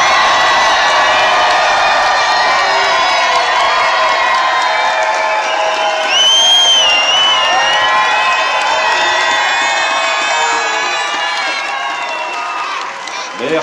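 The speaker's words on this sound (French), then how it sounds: "je vous demande une salle d'applaudissements, des bravos, des cris, des tout ce que vous voulez." A festival crowd at a brass band battle in Le Monastier cheers, shouts and applauds loudly and continuously, with high whoops and whistles rising midway before the roar gradually eases.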